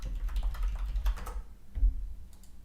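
Quick burst of computer keyboard typing while searching for a stock name on a dividend lookup website, several close, crisp key taps followed by a brief pause and a couple more clicks.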